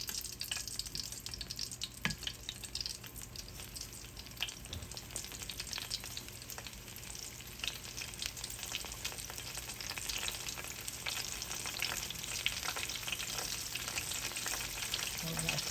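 Spring rolls deep-frying in hot oil, a steady, dense crackling sizzle that runs evenly throughout, close and fairly loud, with no talking.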